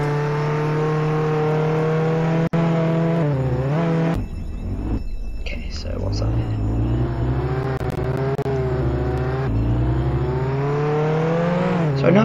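Car engine revving and shifting as a car drives along train tracks in the Roblox game Jailbreak, a loud continuous engine tone with a sharp knock, a brief dip, then renewed acceleration.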